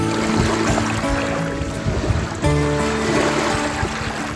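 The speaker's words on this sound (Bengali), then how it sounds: "মৃদু বাতাসে শান্ত ঢেউয়ের কলকল ধ্বনি, ঢেউয়ের তালে তালে নেচে ওঠে নোঙর করা সারিবদ্ধ নৌকা।" Gentle waves lap and ripple on the Brahmaputra river at Balashighat beside a row of moored boats, a steady, close, continuous wash of water with no voices.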